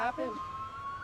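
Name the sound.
sirens wailing across the capital city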